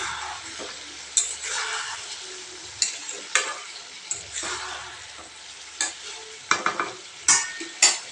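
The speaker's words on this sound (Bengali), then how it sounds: "জিরা বাটা লঙ্কা বাটা দিয়ে আলুটা কষিয়ে নেব" Potatoes sautéing with cumin paste and chili paste make a soft, steady sizzle, broken by sharp clinks and scrapes of a spatula stirring against the pan, all close by with no speech.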